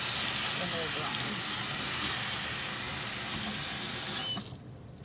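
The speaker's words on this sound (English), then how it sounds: "just give it a little bit of rinsing" Home-grown microgreens being rinsed under running water, a steady hissing tap flow that runs continuously and cuts off near the end.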